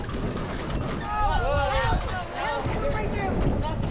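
Wind gusting across a sailboat on open water, a broad rushing roar that swells midway and buffets the microphone, with faint voice-like tones underneath.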